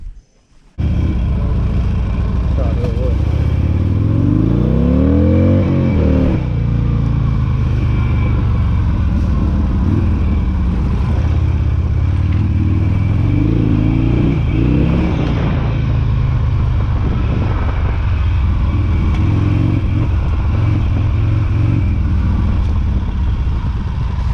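A Harley Sportster converted into a dirt bike starts up and rides off, its loud, close engine rumbling and revving with rising and falling pitch sweeps over a steady low drone.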